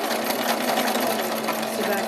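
A sewing machine stitching fabric with a foot pedal, a short steady buzzing whir of rapid stitches, close and continuous, with a voice speaking over it.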